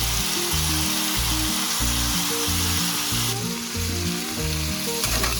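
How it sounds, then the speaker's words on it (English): Chopped tomatoes and pepper fry in coconut oil, giving a loud, even sizzle with faint stirring, all under background music. "in that same pan I will add more coconut oil to it and then add the chopped vegetables, which are the tomatoes and pepper."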